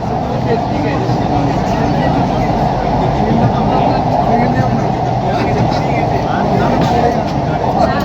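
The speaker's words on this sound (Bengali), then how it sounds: "ভারতবর্ষে প্রথমবার গঙ্গার নিচ থেকে মেট্রো" Kolkata metro train running through the tunnel under the Ganges, a loud continuous rumbling drone of wheels and motors from inside the carriage, steady for several seconds.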